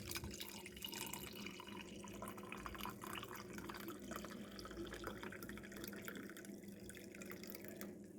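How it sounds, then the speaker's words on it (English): Tea is poured into a cup in a quiet home kitchen, giving a soft, continuous trickling stream of liquid that carries on steadily throughout, faint and close with no talking. "pour the tea in."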